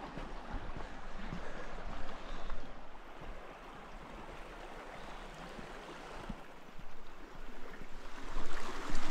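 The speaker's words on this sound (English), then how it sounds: "River sounds nice, doesn't it?" River water flows and rushes continuously nearby at a state park campground, a broad steady hiss that swells slightly toward the end, with no talking.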